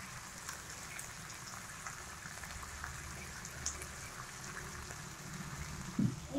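Chinese onion and ají mirasol sauté in a pan for Peruvian saltado, giving a steady soft sizzle with fine crackling that runs the whole time and is heard close up but quiet.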